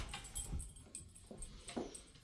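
A puppy whimpers faintly in a home living room, soft high whines repeating at a low level over a steady background hiss, with no talking.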